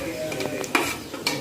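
Sliced onion and garden-grown onion leaves sautéing for paneer fried rice, with a low steady sizzle under a few sharp spatula scrapes and clinks against the pan, close up and without talk.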